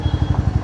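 A Royal Enfield Bullet motorcycle engine idles close by in a brief burst of steady, rhythmic low thumping with no voices.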